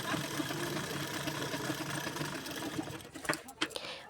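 Electric sewing machine running steadily while stitching a folded hem on a katori blouse, a continuous close mechanical whir that stops near the end with a few clicks, and someone talks over it.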